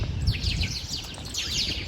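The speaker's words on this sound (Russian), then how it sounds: "Послушайте, как птицы поют, сколько их здесь." Several birds chirping and twittering at once in quick, overlapping calls over a low background rumble.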